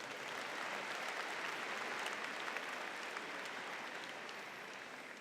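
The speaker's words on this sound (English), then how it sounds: "Big round of applause" A graduation audience gives a steady, sustained round of applause that fills the hall evenly for several seconds, with no voices standing out above it.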